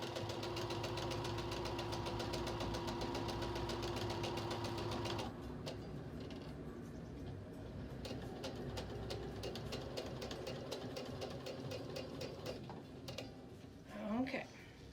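A sewing machine runs steadily while chain piecing cotton quilt pieces for a beginner quilt top, its motor hum and needle rattle continuous at first, then lighter, quieter stitching bursts with brief pauses.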